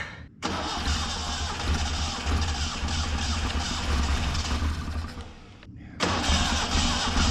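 An abandoned 1974 Datsun 620 pickup engine cranking and catching, running loud and rough for several seconds, cutting out briefly, then firing up again close by.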